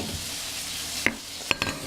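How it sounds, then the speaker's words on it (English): Food sizzles and crackles steadily in a hot frying pan, with a couple of sharp metallic clinks from a utensil against the pan. "Listen to the sizzle."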